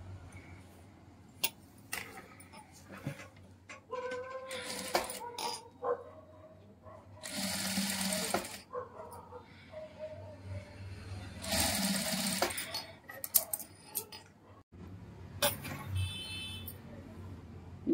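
A sewing machine stitches lace onto fabric in bursts of rapid, close mechanical whirring separated by pauses with small handling clicks.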